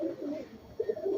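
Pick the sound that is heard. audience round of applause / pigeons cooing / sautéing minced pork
pigeons cooing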